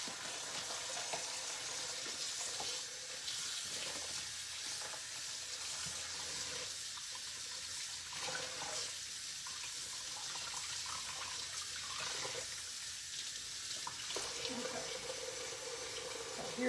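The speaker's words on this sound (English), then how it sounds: "now let me give this a quick rinse." Water running from a kitchen tap to rinse a crock pot, a steady close rush with small changes as the pot is moved under the stream.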